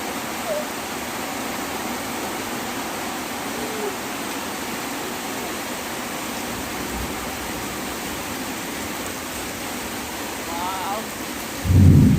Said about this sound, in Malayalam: അയ്യോ എന്നാ മഴയാണോ, നല്ല രസമുണ്ട് കാണാൻ